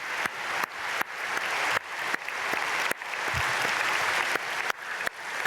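A church congregation at an early-morning prayer service claps together in unison, with sharp rhythmic bursts repeating at a steady pace and a continuous wash of applause between them.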